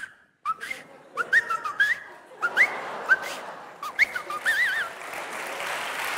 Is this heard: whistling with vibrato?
yes